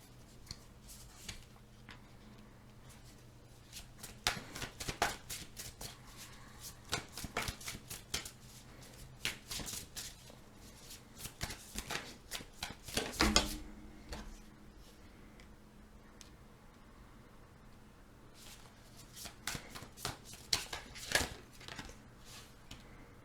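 Tarot cards being shuffled by hand, a soft papery riffling and sliding that comes in quiet, irregular bursts, with a denser flurry midway, close by and with no talk.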